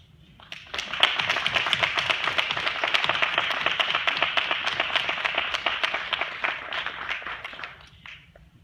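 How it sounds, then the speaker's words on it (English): Graduates at a commencement ceremony stand and clap for their parents, a loud, close burst of dense applause that swells quickly, holds steady for several seconds and then fades out. "Graduates, would you please stand and acknowledge your parents with your applause?"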